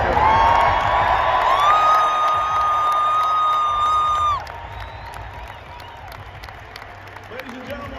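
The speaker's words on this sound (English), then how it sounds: "fans, how about another round of applause for number 68, Jaromir Jagr." A hockey arena crowd at the Pittsburgh Penguins' jersey retirement ceremony for Jaromir Jagr claps and cheers loudly over music, then the roar drops abruptly to a quieter murmur with scattered claps.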